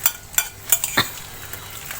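Food frying in a pan in a home kitchen while eggplant and intestine dishes are cooked, with scattered utensil clinks and scrapes over a soft sizzle, close by.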